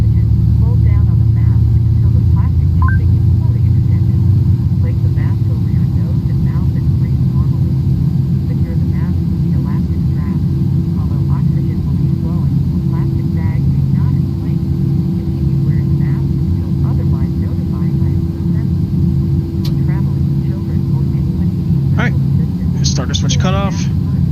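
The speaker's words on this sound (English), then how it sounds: "2 good engine starts." Twin engines of a PMDG 737-800 airliner spooling up after start in Microsoft Flight Simulator: a steady loud turbine rumble and whine filling the whole stretch, continuous and close, with brief faint clicks near the end.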